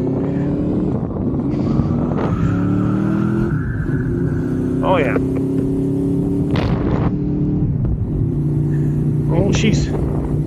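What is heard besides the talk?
motorcycle engine running on first ride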